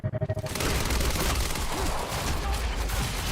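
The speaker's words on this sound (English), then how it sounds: "God, I love this LMG. This LMG is sweet." Light machine gun fire in Quantum Break: a few sharp separate shots open, then a dense unbroken burst of rapid automatic fire runs loud and close, with game noise layered underneath.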